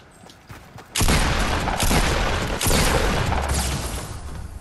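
Loud burst of gunfire in a shooter video game, a dense sustained volley that kicks in after a second of quiet and rolls on with sharp cracks over a booming low end.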